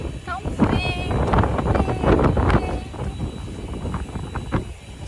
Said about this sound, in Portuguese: tá um vento muito forte, tá gelado